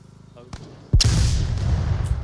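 A grenade goes off in the VR shooter Onward: a sharp blast with a sudden loud onset, followed by a sustained rumbling roar, preceded by a lighter crack and quiet background.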